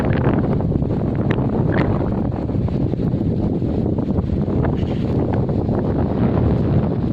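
Strong wind blows steadily across an open village ahead of a cyclone, roaring and buffeting the microphone without a break.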